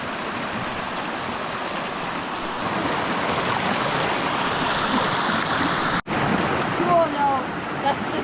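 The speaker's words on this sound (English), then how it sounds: "Bit of a creek crossing." Creek water rushes steadily over rocks at a muddy hiking-trail crossing in Queensland, Australia. The flow is loud and continuous, with a brief dropout near the end.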